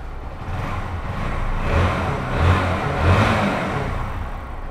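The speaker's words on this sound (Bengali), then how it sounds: "ইঞ্জিনের সাউন্ড একদম নতুন একটা বাইকের ইঞ্জিনের সাউন্ডের মতো হয়ে গেছে" A motorcycle engine, freshly flushed and given new engine oil and a new oil filter, runs steadily close by with a few gentle rises in revs, a continuous mid-pitched drone with no talking.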